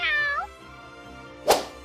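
A single clear cat meow with a rising-falling pitch, followed by a short sharp click or blip, used as a quiz answer sound cue.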